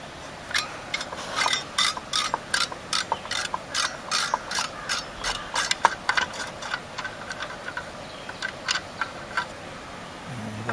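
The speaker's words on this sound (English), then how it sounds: "first thing I'm going to do is remove these 2 screws" Screws being backed out of the case of a Dell GX620 desktop computer, a run of quick close ratcheting clicks and small metallic ticks in irregular bursts that thin out toward the end.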